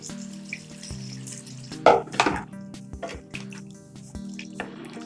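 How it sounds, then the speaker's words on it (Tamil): Tamarind water splashes and sizzles into a hot pan of oil-fried eggplant curry, with crackling frying and a few dripping sounds over a steady low hum; no talking. "இப்போ புளி தண்ணி நம்ம ஊற்றிக்கலாம்"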